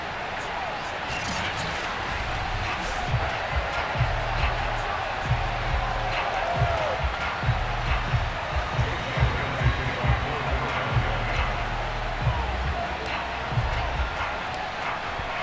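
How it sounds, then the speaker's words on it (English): Dense roar of a sellout stadium crowd in the Madden NFL 22 video game as the Falcons face the Eagles, a constant loud wall of cheering with rhythmic thumps and a commentator's voice layered over it. "Somehow this place got even louder a short time ago as the Falcons were introduced to this sellout crowd."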